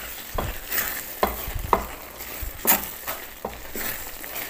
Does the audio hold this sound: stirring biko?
yes